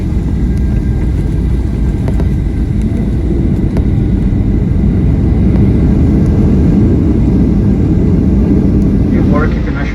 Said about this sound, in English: we flew through a bit of bad weather before touching down